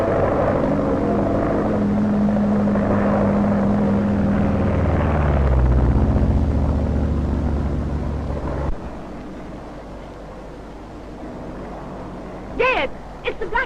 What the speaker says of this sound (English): Looks like mystery planes, Mr. Gray.